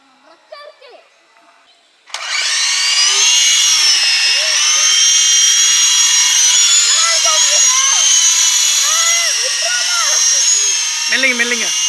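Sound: remote-controlled helicopter flying

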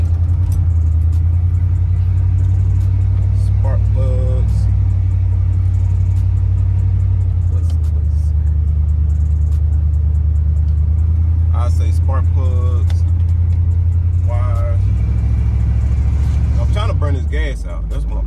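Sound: Chevy box car engine running to burn old gas

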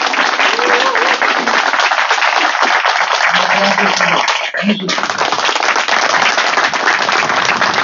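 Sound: audience applause at monument unveiling ceremony

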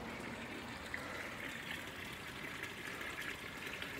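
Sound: garden water feature trickling

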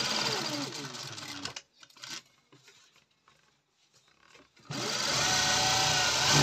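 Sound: sewing machine stitching a coat

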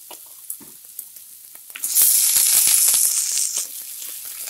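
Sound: ponnanganni greens sizzling in pan with sautéed onions

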